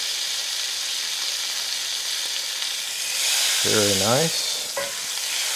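A steak pan-searing as its fat renders, a constant close hiss and crackle of sizzling fat, with someone briefly speaking over it toward the end.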